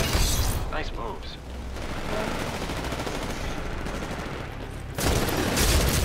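Gunfire from the video game Titanfall comes as dense, continuous rapid-fire bursts with heavy booms at the start and end. A player's voice talks faintly beneath the shooting.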